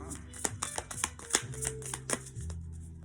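Tarot cards are shuffled and drawn three at a time, crisp quick snaps and riffles in an irregular rhythm, close and fairly quiet with a faint low hum underneath.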